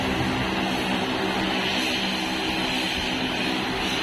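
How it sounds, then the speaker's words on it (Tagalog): An airplane departing Baler Airport, a steady, broad engine roar held at a constant loudness throughout, fairly near, with no voices over it. "Lilipad na ang aeroplano."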